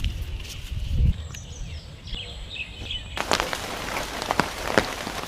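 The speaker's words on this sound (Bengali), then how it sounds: "এইতেই বৃষ্টিটাই পাইয়ে গেলে দর্শক, বৃষ্টিতে তো পাইয়ে গেছে।" Rain patters steadily on surfaces at an outdoor fish market, growing noticeably heavier and denser partway through, with a faint bird call above the downpour.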